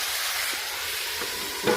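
Chopped vegetables fry in a pan with oil, giving a steady close sizzle and hiss throughout, with a few faint stirring knocks and a slight swell near the end.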